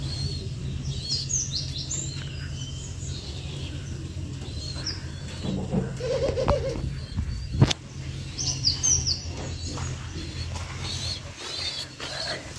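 Caged doves call amid a steady low hum, with scattered chirps and soft coos at moderate distance and a brief sharp knock midway.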